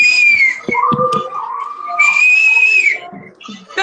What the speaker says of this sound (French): Tu sais siffler comme ça